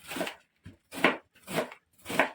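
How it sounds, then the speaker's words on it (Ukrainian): Four crisp knife chops through cabbage for borscht on a board, evenly spaced and close up, with short silences between strokes and no talking. "нарізаю капусточку на борщ"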